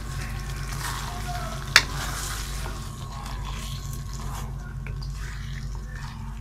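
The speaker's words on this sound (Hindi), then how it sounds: "अब हम इसको मिक्स कर देंगे।" Chicken white qorma being stirred in a pan, a soft continuous sizzle and scraping close by with one sharp clink of a spoon against the pan.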